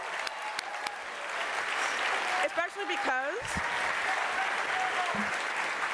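A crowd gives a steady, continuous round of applause throughout, with a voice speaking over it partway through and a brief burst of chirpy sound effects in the middle.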